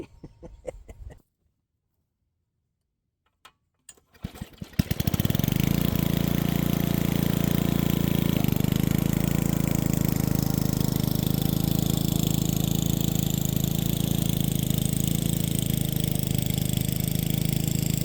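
A garden tiller engine starts after a few short sputtering attempts and brief silence, then settles into a loud, steady, close running drone with a slight shift in pitch partway through.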